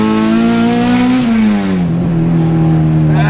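A K-swapped Honda engine revs hard and loud, its steady buzzing tone climbing slightly before easing down and holding a high, sustained drone throughout.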